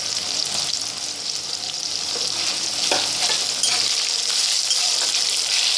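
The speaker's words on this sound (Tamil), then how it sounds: "எண்ணெய் காய்ந்தது இந்த மீட் மேக்கரை போட்டு நம்ம பொறித்து எடுத்துக்கொள்ளணும்" Soya chunks dropped into hot oil for a meal maker curry, a loud, dense, continuous sizzle and bubbling with occasional stirring scrapes, close and unbroken throughout.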